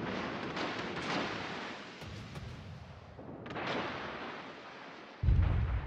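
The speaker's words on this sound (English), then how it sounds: "Concentrate fire on the target." Naval guns fire in a close-range World of Warships ranked battle between the Edinburgh and Odin, with two rolling booming blasts in quick succession and a heavy low thump at the end, no voices.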